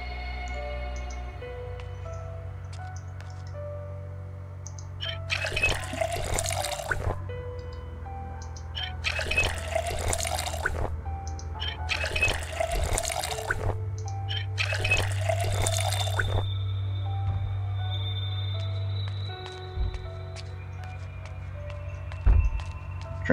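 Water gushes from a faucet in four loud bursts of a few seconds each as a character drinks in Project Zomboid, over a steady low hum with faint clicks between.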